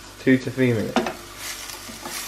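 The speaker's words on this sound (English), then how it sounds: "I've melted 25 grams of butter in this pan, which I am now using to help cook these onions for 2 to 3 minutes" Onions cook in 25 grams of melted butter in a pan for a spinach and feta filo pie, a soft sizzle under a few stirring scrapes and clinks, close by, with a brief voice-like sound near the start.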